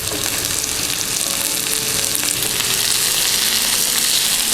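Garlic and chili frying in hot oil for an Indonesian fish gulai, a steady close, dense sizzle with faint stirring scrapes, continuous and alone with no talk.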